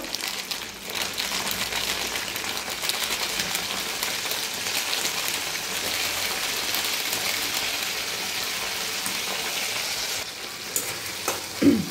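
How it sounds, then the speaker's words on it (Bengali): Spices, ginger, green chilli and tomato frying in oil, giving a steady, dense sizzle like light rain that continues evenly throughout, with faint stirring and no talking. "মশলাটা ভালো করে টমেটোর সঙ্গে মিক্স করে নেবো এবং ভালো করে ভেজে নেবো।"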